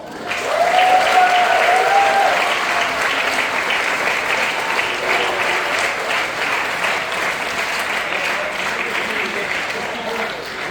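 A large dinner audience bursts into sustained applause, steady and dense clapping across the whole stretch, with a few cheers near the start, slowly easing but never stopping.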